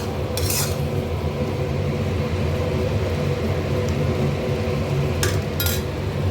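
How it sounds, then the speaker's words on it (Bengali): Vegetables being sautéed and stirred in a pan while cooking down, giving a steady close sizzle and scraping with a few sharp metallic clinks of utensil against pan. "এবার এটা আমি ভালো করে কষিয়ে নিলাম"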